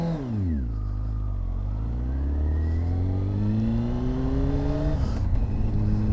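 A Honda 954 Fireblade motorcycle, stock except for an aftermarket exhaust, revs up and pulls away, pitch rising through gears, loud and close with a steady droning roar.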